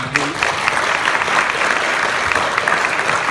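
Sustained applause from an audience honoring graduates at a ceremony, a dense, steady wash of many hands clapping at once, loud and continuous throughout.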